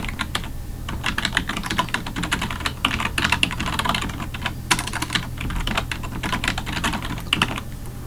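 Fast, steady typing on a computer keyboard while writing script code, close and crisp, dense clattering keystrokes with brief gaps and no talking.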